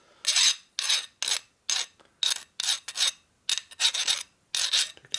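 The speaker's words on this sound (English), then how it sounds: "You can hear the file catching the sharp edge there." A hand file rasping across the sharp edge of a metal fitting on a 650cc Harley XL single Sportster, heard as about a dozen short, loud, close strokes in an irregular rhythm with brief silences between them.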